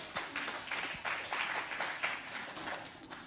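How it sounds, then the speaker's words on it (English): An audience at a healthy aging panel event applauds steadily, many hands clapping in a dense, continuous wash that stays fairly soft and even throughout. "let's give our third panel a round of applause, please"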